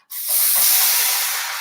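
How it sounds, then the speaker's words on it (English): Boiling water poured while baking Jewish rye bread, a steady close hiss of steam and splashing water rising quickly and holding for under two seconds. "Do you want the fun job of pouring the boiling water into"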